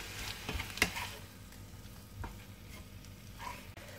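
Ham pearl pasta with grated comté being stirred in a pan, with a soft low sizzle and a few scraping spoon strokes, faint and close.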